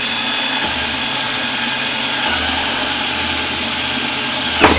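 Drill boring holes into a plastic hydroponic bucket, a steady loud whirring motor drone that runs continuously, shifting pitch partway, ending with a brief sharp knock.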